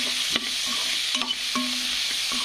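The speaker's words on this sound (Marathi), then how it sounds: "तर याला थोडंसं हलवून घ्यायचं आपण।" Boiled potatoes for a potato bhaji are stirred in a pan, a spoon scraping in a few close, distinct strokes over a faint steady sizzle.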